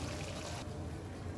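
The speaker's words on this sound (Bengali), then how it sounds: "পানি দিয়ে দিলাম।" Water pours into a chicken curry with papaya, lightly boiled potatoes and green chillies, a short, close, steady liquid rush that drops sharply in brightness partway through.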